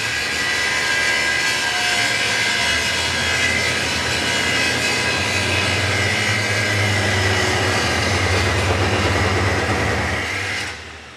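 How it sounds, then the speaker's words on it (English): A large angle grinder grinds 4x4 steel while running off generator power from a Milwaukee portable power supply on a long extension cord. It makes a loud, continuous, steady roar that cuts off just before the end. "the large angle grinder is also going to be grinding that same 4x4 steel as well"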